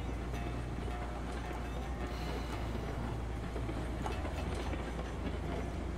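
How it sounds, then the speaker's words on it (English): A Baldwin Eureka steam locomotive in the Railroads Online video game rolls along with a constant, dense rumble and rhythmic clickety-clack of wheels, loud and continuous, with no voices. "this exact locomotive by Baldwin is one of the locomotives on the train in Red Dead"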